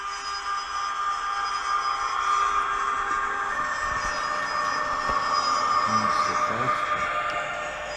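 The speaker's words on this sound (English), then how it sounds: "we'll just take it away slowly, let all the rolling stock roll by" A model train rumbles steadily along its track, with a continuous whirring hum and faint clicks, fairly close by.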